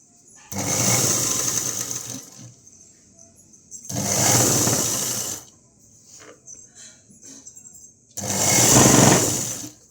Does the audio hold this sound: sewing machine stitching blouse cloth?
yes